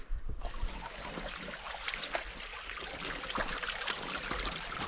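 A small Carpathian mountain stream trickles and splashes steadily over rocks, a continuous bright, hissing flow heard close by and alone, with no voices.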